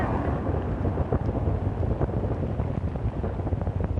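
Saturn I rocket engines roaring at liftoff, a continuous, loud, dense low rumble with crackling bursts that holds steady throughout, with no voices.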